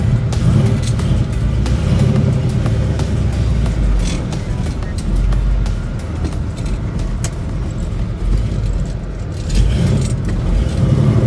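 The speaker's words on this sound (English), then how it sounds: "We're gonna wait for Dylan to get out of the way and we're gonna go for a ride." A 1967 Chevelle SS tribute with a 396 big block and four-speed manual pulls away, its loud low engine rumble filling the cabin steadily with a slight rise near the end, plus faint rattles and jingles.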